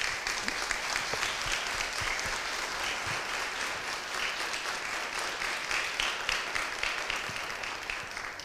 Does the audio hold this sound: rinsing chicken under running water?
no